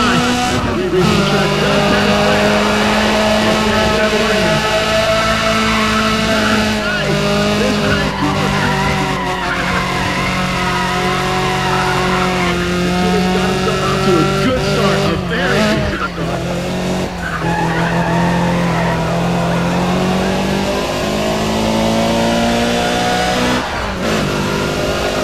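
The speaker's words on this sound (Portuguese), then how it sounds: "Sente o barulho do motor" Car engine in the racing game Need for Speed ProStreet, a loud sustained revving drone that rises and falls through gear changes, with tire squeal and skids cutting in, dense and constant for the whole stretch.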